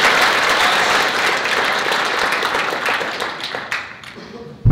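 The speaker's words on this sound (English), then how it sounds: "You can give them a round of applause and wish them the best of luck." Audience applause filling a room, dense sustained clapping from a crowd that thins and tapers toward the end, with a few voices mixed in.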